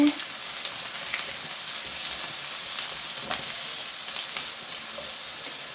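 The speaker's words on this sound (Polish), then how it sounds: "Ja lubię już zapach cebulki, jak się smaży." Onions and carrot sizzle steadily in a hot pan, a close, continuous crackle with occasional sharper pops.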